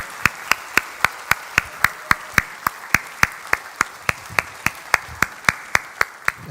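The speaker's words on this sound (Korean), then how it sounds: "여러분 뜨거운 박수로 맞아주시기 바랍니다" Applause welcoming pastors at a Sunday Easter worship service in a Korean church, heard as steady, evenly spaced single claps, about three per second, sharp and close, with no talk.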